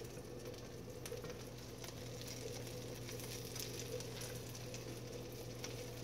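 Toutons, plain and stuffed dough, frying in a cast iron pan: a steady low sizzle and bubbling of hot fat runs unbroken throughout, fairly quiet and close, with no talking.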